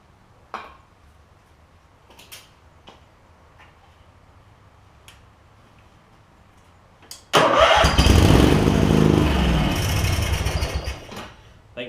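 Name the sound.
Craftsman garden tractor engine cranking, trying to start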